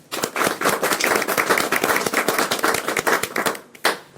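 An audience claps steadily and loudly for an arriving guest at a gathering, a dense patter of many hands that runs for about four seconds before tapering off, with one last brief burst.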